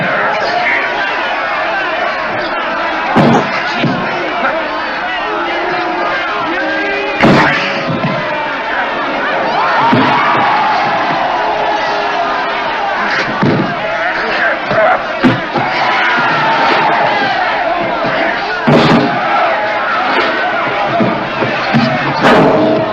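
A crowd at a wrestling match in a 1950 comedy film produces a continuous roar of cheering and chatter, loud and close, with sharp bursts and thuds punctuating the babble throughout.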